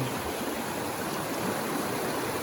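Creek water flows through a canyon on the northeast fork of Porcupine Creek in Kananaskis, a dense, steady rushing roar close by that fills the scene with no other sounds.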